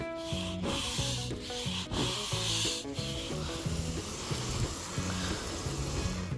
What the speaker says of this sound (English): Some Dawn dish soap is what I use, and then just a regular bristle brush.